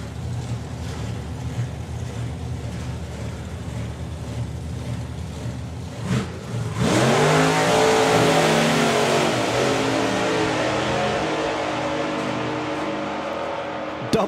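At a Dragstalgia drag racing event, an engine idles with a low rumble, then a drag car launches down the strip. A sudden, loud, sustained roar follows and stays strong to the end.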